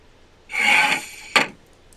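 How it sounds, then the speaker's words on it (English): A wooden desk drawer slides open with a half-second scraping rub, then shuts with a short knock, close and alone in a quiet room. "It was a desk drawer opening and closing."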